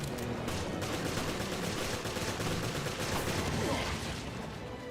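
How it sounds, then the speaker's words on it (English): A machine gun fires in a video game as a dense, continuous burst of rapid shots that fills the whole stretch at a steady, loud level. "Yeah, machine gun."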